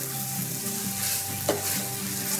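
Potatoes and onions frying in a pot while being stirred, a steady close sizzle with light scraping and one sharp clink of the utensil midway.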